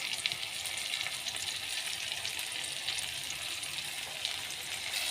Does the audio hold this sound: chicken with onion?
yes